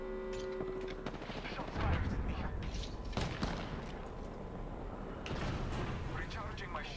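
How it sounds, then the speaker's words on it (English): Rapid gunfire from a G7 Scout in Apex Legends, heard as repeated sharp shots in a busy firefight, with a voice talking over the action. "somebody shooting a G7"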